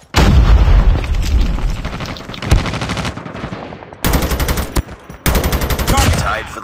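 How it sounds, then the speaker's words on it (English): A Call of Duty match: loud, close bursts of automatic gunfire repeat with short gaps, a grenade blast booms in among them, and brief voices call out under the shooting. "Grenade!"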